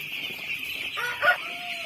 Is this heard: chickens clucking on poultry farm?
yes